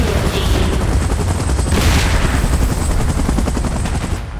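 A helicopter's rotor drones loudly and steadily throughout a PUBG Mobile match in the Titans: The Last Stand mode, with dense bursts of gunfire mixed into the continuous roar and no talking.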